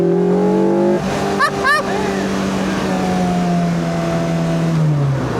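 Rover engine in a Lotus Elise 340R revving hard in first gear from the driver's seat, rising then falling as the gear changes, loud and close, with brief chirps and a voice speaking over it.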